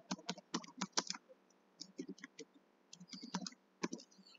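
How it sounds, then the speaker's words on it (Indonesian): Keys clatter on a computer keyboard as a search keyword is typed into a search box, quick bursts of close, crisp clicks separated by short pauses. "pada kolom pencarian kita ketikkan keyword pertama yang kita miliki tadi"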